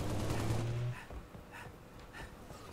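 Gunfire in the Halo Reach video game on the Sword Base legendary mission: a loud burst at the start, then several quieter, spaced shots.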